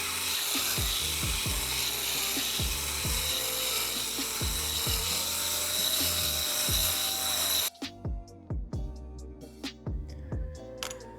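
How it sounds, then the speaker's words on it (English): A cylinder hone scrapes inside a nickel-lined Yamaha YZ125 cylinder, giving close, rhythmic rasping strokes that abruptly drop to quieter scraping and ticking near the end. "don't be surprised if you got to be honing it for a while to even make a small change"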